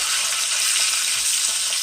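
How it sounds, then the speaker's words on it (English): Steady, loud sizzling of lamb steak frying in a hot cast iron pan over medium heat, a continuous crackling hiss with no talk. "I've got this cooking on medium, and you notice I'm using a cast iron frying pan as well."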